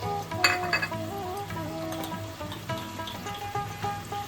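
Fried potatoes tipped into a sizzling spice paste in a pan for a Bengali potato and pointed gourd curry, giving a steady close crackle of frying with a few light clinks of utensils.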